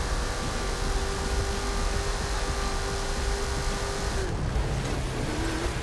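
A car slides across an icy track in Forza Horizon 5, its engine droning loud and steady throughout, then cutting off abruptly near the end before picking back up.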